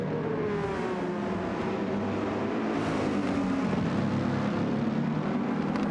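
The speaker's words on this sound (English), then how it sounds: "but Smith, both of these guys battling to try and turn their cars now." Race cars in a racing game at Kyoto Driving Park, engines droning loudly with rising and falling pitch as two cars battle side by side, a continuous close roar with no talk over it.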